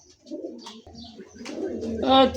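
Soft coos from a pair of domestic pigeons, a few low throaty calls close by, with bits of voice and handling noise around them.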